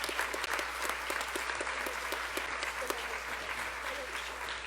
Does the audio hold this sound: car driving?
no